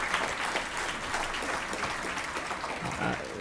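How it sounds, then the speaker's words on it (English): An audience at a business council annual meeting applauds steadily at a moderate distance, a dense even wash of clapping that holds for several seconds without speech over it. "Let's give a round of applause to Heather Bracetti."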